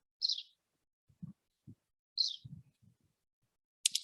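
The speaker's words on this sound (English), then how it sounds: "Apart from the birds, I'm currently hearing nothing." Two short high chirps from a bird, well spaced, with a few soft low thumps between them and another chirp at the very end.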